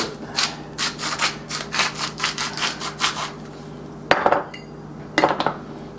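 Chicken pieces for Chicken Vesuvio being seasoned on both sides, a steady run of close, dry rubbing and scraping strokes followed by a couple of sharper scrapes and knocks, with no one speaking.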